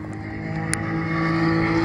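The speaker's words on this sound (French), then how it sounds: "Mais on a une RS6 C8" A yellow Audi RS6 C8 Performance at the Dijon-Prenois circuit during a French circuit championship, heard as a faint engine tone that rises slightly as the car passes.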